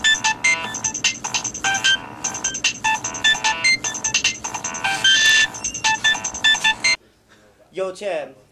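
A cell phone ringtone plays at a senior night service, a loud repeating melodic tone with steady bleeping notes for about seven seconds before cutting off, followed by a brief voice.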